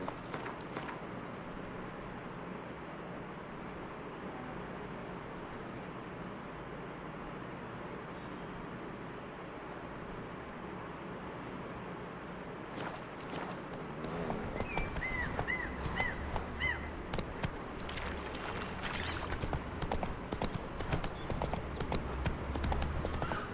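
Roach the horse gallops in The Witcher 3, a quick run of rhythmic hoofbeats that starts partway through after a quieter stretch, with faint game ambience underneath.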